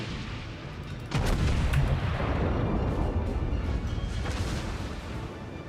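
Heavy battleship shells from the Nagato slam in during a World of Warships naval battle, a dense roaring burst of impacts starting about a second in, then a long rumbling wash of explosions and gunfire that slowly fades.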